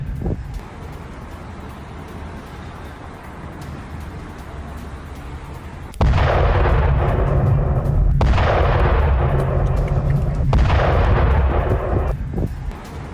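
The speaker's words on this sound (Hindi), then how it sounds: "हॉर्मुज में ईरान ने दागी है मिसाइल।" Missile fire in the Strait of Hormuz: after a quieter rumbling stretch, a sudden heavy blast hits, followed by two more booming bursts that each fade into a long roar, loud and without any voice.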